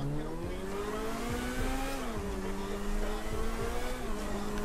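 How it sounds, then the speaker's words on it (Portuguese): A tuned BF Raptor car in a video game drones steadily on a test drive, its engine holding a loud, sustained tone that shifts pitch with gear changes and acceleration, with no talking. "Vou estar fazendo um test drive nele aqui agora pra ver como que ficou a velocidade."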